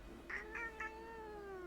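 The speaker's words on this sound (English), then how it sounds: "The cat mutters an annoyed meow through her snores." A sleeping cat in the game Death and Taxes gives a short, annoyed meow through soft snores, three quick close syllables trailing into a low drawn-out tone.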